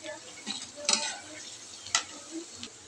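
Onion frying in oil in a pan while cooking noodles, a soft steady sizzle with a few sharp stirring clicks and scrapes, close and fairly quiet, no talking.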